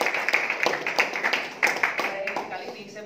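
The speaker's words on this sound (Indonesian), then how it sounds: "Aplaus dong untuk cewek." Audience at a distributor training event clapping in applause, a loose rapid patter of many hands at moderate level running throughout, with voices faintly underneath.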